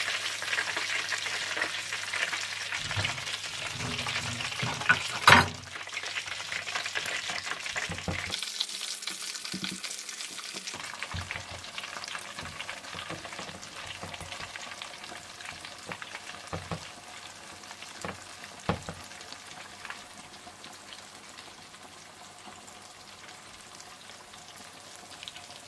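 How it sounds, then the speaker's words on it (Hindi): Chicken wings frying in oil over medium heat crackle and sizzle steadily up close, with occasional knocks and stirring clatter, the spatter settling a little softer after the opening seconds. "मीडियम आंच पर फ्राई करने के बाद आप इन्हें निकाल लीजिए और बाकी सारे विंग्स भी इसी तरह से फ्राई कर लीजिए।"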